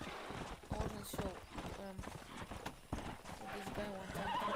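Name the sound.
running horse, from the video game Red Dead Redemption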